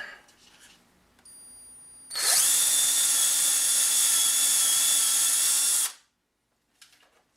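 A power drill bores into a clay-sculpting mount, a loud steady whine running about four seconds alone, then cutting off abruptly.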